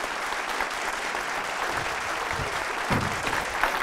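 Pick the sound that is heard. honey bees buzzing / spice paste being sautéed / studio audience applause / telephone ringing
studio audience applause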